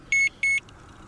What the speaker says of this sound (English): It's beep, beep, beeping.